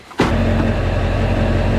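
A 1999 Ford F-450 truck on a test ride: a sudden start, then a steady, loud engine and road drone with a constant low hum, heard close from inside the cab.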